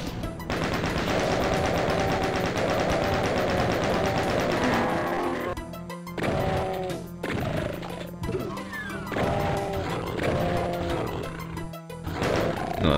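Rapid bursts of gunfire from the Doom Hellcore mod on Map03, The Nether World, loud and continuous, with dense repeated shots over a steady tonal game soundtrack.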